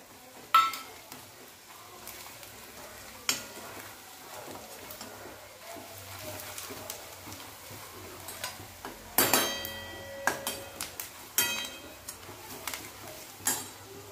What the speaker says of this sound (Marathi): गॅस कमी करून हे बेसन कांद्यासोबत भाजून घेऊया।